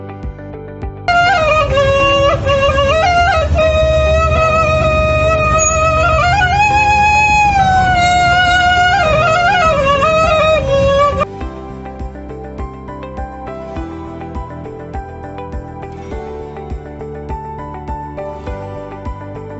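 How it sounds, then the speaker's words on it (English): A suling flute plays a clear, sustained melody with bending, ornamented notes for about ten seconds. It then cuts off abruptly, leaving quieter background instrumental sound. "And here's the sound of suling."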